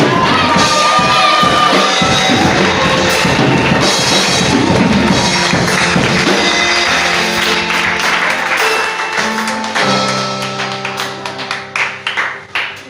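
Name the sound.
congregation cheering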